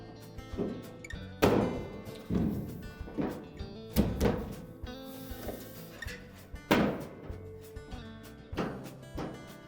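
The top panel of a Whirlpool dryer is set down onto its tabs during a motor pulley replacement, producing a series of close, hollow metallic thunks and knocks spaced irregularly with short scraping sounds between them.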